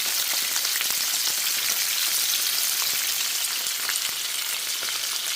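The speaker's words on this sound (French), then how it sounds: "Mais d'abord, il faut les faire griller." Peppers frying in plenty of olive oil in a pan over high heat, a steady dense sizzle with scattered crackles and pops throughout, close and continuous with no talking.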